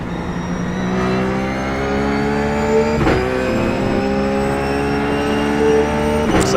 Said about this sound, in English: Braking down to 4th, we're braking down another gear.